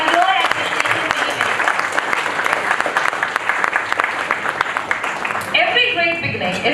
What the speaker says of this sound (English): Can we have a big round of applause to welcome all our dignitaries who are here at Vishleshan 2025?